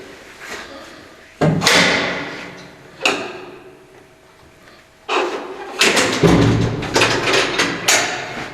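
Heavy metal doors in a prison detention block slamming and clanking shut, several loud booming impacts with rattling latches echoing through a hard, reverberant corridor, separated by quieter gaps.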